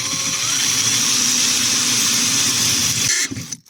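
Close, loud power drill running steadily as it bores into a boat tent tarp frame, a continuous whining motor with no talk, then cutting off abruptly near the end.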